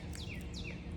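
Birds sing on a Saturday morning outdoors in a front yard, with two quick descending chirps that sound faint and somewhat distant over a steady background hum.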